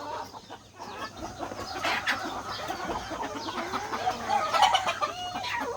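Brooding hens cluck softly and intermittently nearby, with faint calls scattered over a quiet, rustling background.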